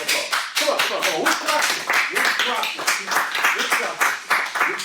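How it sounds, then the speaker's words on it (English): A class audience claps together in a steady, dense round of applause, close and loud, the clapping carrying evenly for several seconds. "Give us another round of applause"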